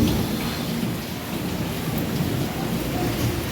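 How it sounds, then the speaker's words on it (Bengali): Heavy rain pours down in a dense, steady roar that stays loud throughout with no voices. "মারাত্মক বৃষ্টি হলো"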